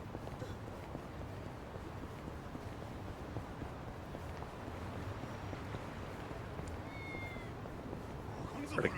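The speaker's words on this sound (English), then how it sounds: "Got a cat meowing off to the side here." A cat meows a few times off to the side in the video game Yakuza: Like A Dragon, faint and high over a steady windy background hiss.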